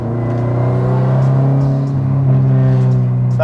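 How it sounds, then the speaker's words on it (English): Tuned car with roughly 350 wheel horsepower, its engine revving in a steady loud drone with a few sharp exhaust pops near the end, close by. "The pops and the bangs that the car makes just makes me so happy."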